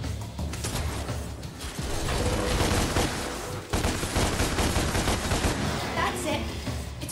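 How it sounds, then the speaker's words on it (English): Dense gunfire from the hack-and-slash game DmC: Devil May Cry, loud and continuous bursts of rapid shots layered with clanking mechanical game effects and music, a brief dip midway before the barrage resumes. "Now use your gun to shoot him down."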